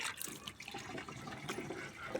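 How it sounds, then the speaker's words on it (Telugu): Water sloshes and swirls close by as about ten litres of a plant solution are mixed in a bucket, a soft continuous splashing and churning of liquid with no voices. "ఇప్పుడు ఈ రెండు బకెట్లు ఇలా పది లీటర్లకి బకెట్లో కలిపేస్తున్నాను"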